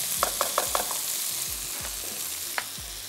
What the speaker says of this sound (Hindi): चिकन को हल्का सा सौते करते जाना है